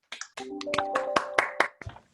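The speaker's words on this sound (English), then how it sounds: "let's have a really big round of applause for the whole team, please." Online meeting attendees on unmuted microphones clap sparsely: about eight or nine separate handclaps spread over two seconds, fairly faint, with a thin tonal hum behind them.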